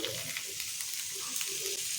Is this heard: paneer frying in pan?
yes